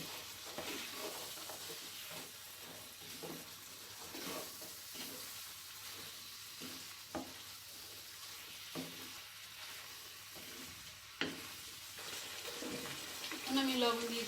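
Rajma prawn curry stirred in a pan, a continuous sizzle with repeated scraping strokes of the spoon at a steady rhythm, close and moderately loud.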